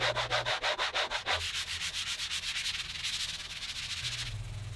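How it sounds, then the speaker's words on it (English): Sanding blocks rub back and forth against the wooden back strip of an acoustic guitar to round its edges, making quick, rhythmic rasping strokes that run close and steady throughout. "Now I'll just spend a few minutes with some sanding blocks and round over the edges of the back strip."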